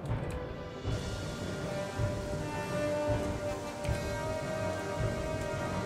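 Rain in the video game Gothic 3: a steady, fairly faint patter of falling rain with a low humming ambient drone underneath, continuous throughout.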